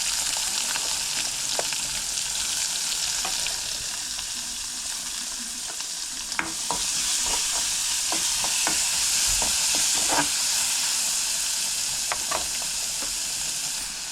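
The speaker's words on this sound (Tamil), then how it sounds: "கடுகு நல்லா பொரிஞ்சிருச்சு இது கூட வெங்காயம்" Mustard seeds and onion frying in a hot pan during village home cooking, a steady sizzle with scattered pops and crackles running throughout, fairly close and with no talk over it.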